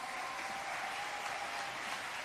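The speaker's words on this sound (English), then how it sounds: "Can we get another round of applause" An audience at a Micro, Small and Medium-sized Enterprises Linkages Day ceremony applauds in a steady, even wash of clapping that holds for the whole stretch at a soft, somewhat distant level.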